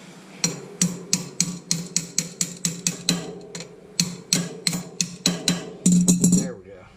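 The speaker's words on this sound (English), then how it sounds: "Have to tap our bolt up a little bit." Hammer strikes on the bolt of a front sway bar end link on a 1999-2007 Chevrolet Silverado/GMC Sierra, about fifteen sharp metallic taps in a steady rhythm, close and loud, ending in a brief ringing scrape.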